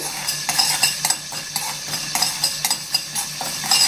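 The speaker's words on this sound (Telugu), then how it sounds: "2 స్పూన్లు మెంతులు వేయాలి. ఇవి మంచిగా కలర్ మారే వరకు ఇలాగ మీడియం ఫ్లేమ్ మీద నిదానంగా వేయించాలండి" Fenugreek seeds dry-roasting over a medium flame in a kadai, stirred by a spoon that scrapes in a steady rhythm of soft strokes about every half second, with a faint dry rattle of seeds beneath and no voices.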